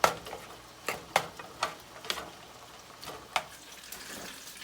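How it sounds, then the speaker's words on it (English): Corn, Rotel and cream cheese are stirred in a pan, giving periodic soft scraping taps and wet sloshing at a steady, uneven rhythm, fairly close and with no talking. "we're gonna add our corn, our rotel, and a half a stick of our cream cheese. And we're gonna stir this up until it melts down."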